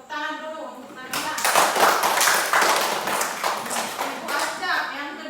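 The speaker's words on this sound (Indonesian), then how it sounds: "Tepuk tangan dulu untuk Nabila." Students in a classroom clap for a classmate, with a burst of close, uneven hand claps rising after a spoken line and fading under continued talk.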